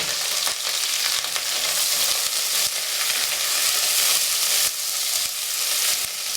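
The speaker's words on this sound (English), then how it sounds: "we need to heat up some olive oil in a pan, and then we're going to just pop in our mirepoix veg" Mirepoix vegetables sizzle steadily in hot olive oil in a pan, a dense, loud, continuous frying hiss with faint crackles, unbroken and with no voices.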